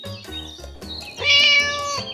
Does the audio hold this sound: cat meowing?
yes